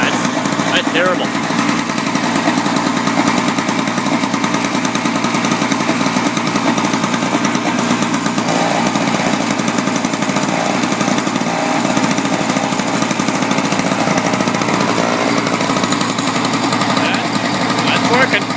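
A Yard Machines single-stage gas snow thrower runs steadily and loudly close by, its small engine giving a continuous rough, buzzing drone with no breaks from start to finish.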